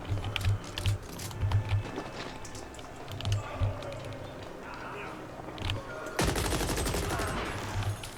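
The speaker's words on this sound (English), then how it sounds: "Oh, it's beefy, that shotgun." Beefy shotgun blasts in a first-person video game, several punchy shots in irregular bursts with one heavier sustained roar near the end, amid clicking and game noise.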